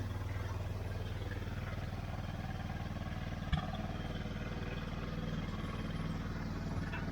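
Yamaha Bear Tracker 250 ATV engine idling while warming up, a steady low putter with a rapid even pulse, fairly quiet and continuous, with one brief clunk midway.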